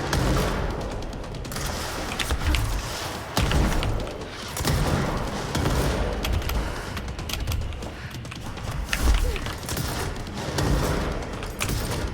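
Bomb blasts and gunfire in the Control action game, a dense, continuous barrage of booming explosions and rapid shots, loud and close throughout with brief lulls, no talk.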